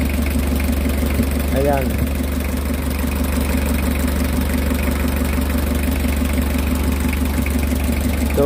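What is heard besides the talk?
car engine idling while cold, waiting to warm up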